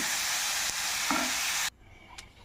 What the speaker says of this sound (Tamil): எல்லா காய்களை போட்டு கிண்டிட்டேன்